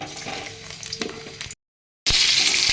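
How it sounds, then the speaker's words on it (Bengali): Potatoes dropped into hot mustard oil, a loud dense frying sizzle heard close up, broken by a short silence before the sizzling resumes even stronger. "আমার তেলটা মোটামুটি গরম হয়ে গেছে আমি আলুগুলো এবার ছেড়ে দিচ্ছি"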